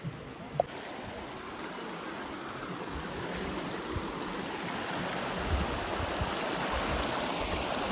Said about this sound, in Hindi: ये छोटी सी नदी पार करनी पड़ेगी।